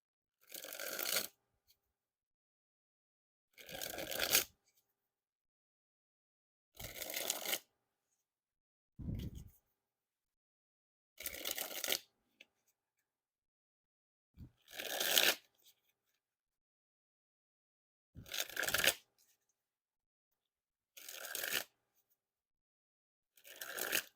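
Deck of Casey's playing cards dribbled from hand to hand, heard as eight short, crisp fluttering bursts separated by silent gaps, close and clear with no talking.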